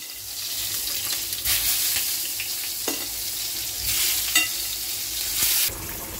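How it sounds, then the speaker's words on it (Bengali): Halved eggplant frying in plenty of oil, a bright steady sizzle that rises and falls in bursts as the pieces are moved, with a few light clinks of a utensil, close and clear, no one talking. "এবার বেগুন ভাজাটা বসিয়ে দিলাম"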